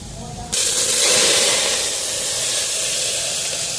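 Dry red chillies and five-spice seeds dropped into hot oil burst into a loud, steady sizzle and hiss that starts abruptly and holds strong, close by.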